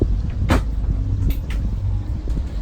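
A cabinet door opens and closes in the center console cabin of a 2019 Scout 355 LXF boat, with a couple of brief clunks and clicks over a low background hum.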